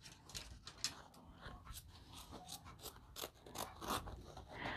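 Scissors trim excess embroidery stabilizer from a hat after stitching, producing quiet, close snips and small scraping clicks in an irregular rhythm.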